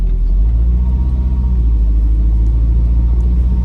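Mercedes SL500 accelerating uphill, a loud, steady low engine rumble close up inside the car, continuous without a break.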